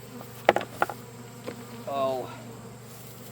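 Honeybees in an opened hive buzz after a strap drops onto them: a few sharp knocks early on, then a low, steady insect drone with a brief swell of buzzing, close by, with a man's short exclamation.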